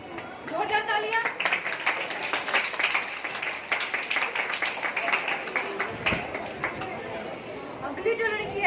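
Steady applause from a crowd at a school prize ceremony, many hands clapping continuously for several seconds with some chatter underneath.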